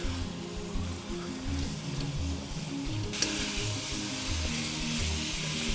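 Chicken stir fry with ginger and spice sizzles hard in a hot pan, a dense, continuous crackle and hiss, broken by the low knocks and scrapes of steady stirring.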